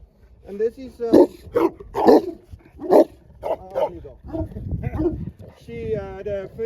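Several dogs at a breeding stud bark and yip in short repeated bursts, loud and close, with a brief whimper, while a person talks over and between them.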